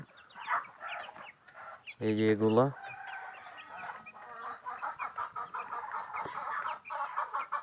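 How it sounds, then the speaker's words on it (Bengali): Native desi hens and farm-bred chicks on a Bangladeshi poultry farm cluck and chirp steadily throughout, with one louder, drawn-out call near the middle, while someone talks over them. "দেশি মুরগির পাশাপাশি কিছু ফার্মি মুরগির বাচ্চাও রাখছি"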